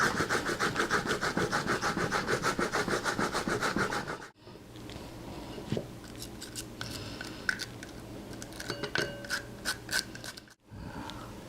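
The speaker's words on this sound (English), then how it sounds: "Now take your daikon, after having peeled it first, and grate it." Peeled daikon radish rubbed against a grater in fast, steady rasping strokes, close and loud for about four seconds, then quieter scattered scraping and clicks.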